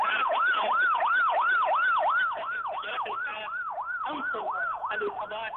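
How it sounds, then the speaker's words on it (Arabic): An ambulance siren wails in a steady rising and falling cycle near Khuza'a, fairly close, with the tone shifting slightly toward the end. "الآن بدأ سيارات الإسعاف تنقل إصابات جديدة في حدود خزاعة كما تسمع"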